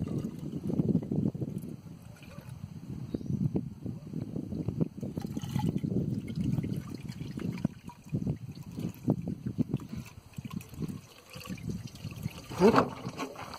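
Pre-mixed blue coolant with demineralized water is poured into the cooling system of a 2000 BMW E46 318i, a low gurgling, trickling flow that bubbles and glugs unevenly for over ten seconds, close by, ending in a brief louder splash.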